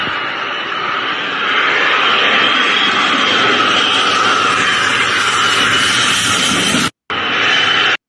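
F-22 stealth fighter jets flying overhead, a loud sustained roaring rush that swells as they pass, briefly cut off near the end.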